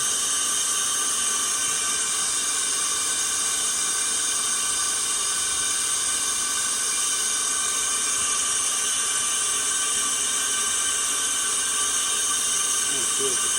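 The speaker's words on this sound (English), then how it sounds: "open the valve up, and the air blowing through it pulls the vacuum on" Compressed air blows through an air-driven vacuum pump and draws gas through a hose, making a steady, loud, even hiss that holds unchanged from start to finish.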